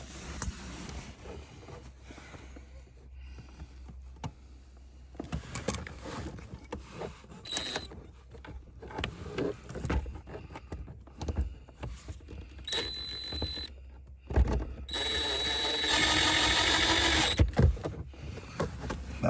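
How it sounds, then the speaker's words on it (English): A power drill driving screws back into the lower trim panel of a 2014 Chevy Silverado 1500 WT, short whirring bursts with pauses and clicks, ending in a longer high-pitched drive, close and fairly loud. "I'm going to take my screws and go ahead and get this drilled back in down below"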